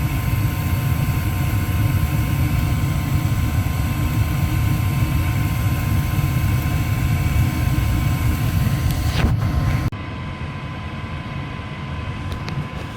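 A motor on a heating-system service call runs with a loud, steady, broadband drone and a low hum. The level drops abruptly near the end as the sound shifts.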